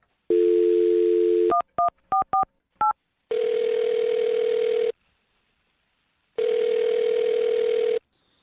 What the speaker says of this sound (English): I'm going to dial the phone number and get your second date update